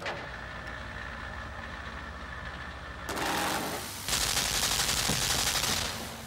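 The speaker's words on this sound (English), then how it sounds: "Okay, I see more machine guns." Machine-gun fire in the side-scrolling video game Limbo: a steady stream of rapid mechanical shots over a low hum, growing louder and harsher partway through with heavy bursts at the close, no talk.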